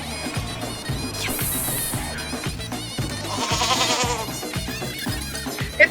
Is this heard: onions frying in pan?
no